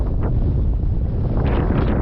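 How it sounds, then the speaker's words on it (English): Strong wind roars across a hilltop on the Southern Upland Way in the Scottish Borders, a steady, loud buffeting rush against the microphone that lasts throughout with no pauses. "It's really windy up here."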